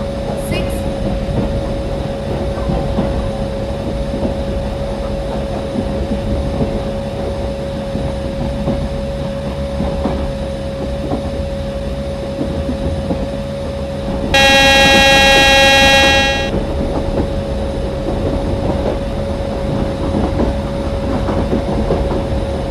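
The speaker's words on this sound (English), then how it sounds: "Express is arriving at platform number 6." An express train pulls into a station platform with a continuous rumble and steady clatter, and a loud horn sounds for about two seconds partway through.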